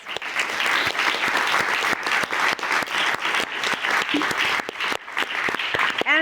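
A conference audience applauds its keynote speakers and panelists after an energy transition panel, with loud, sustained clapping throughout and a brief voice near the end.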